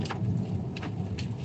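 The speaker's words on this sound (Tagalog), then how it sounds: "Grabe yung ulan. grabing ulan." Heavy rain pounds steadily outdoors in a dense, close roar, with a few brief brighter splashes or gusts cutting through the constant downpour and no voices.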